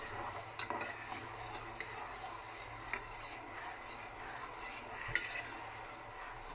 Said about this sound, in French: Je remue bien.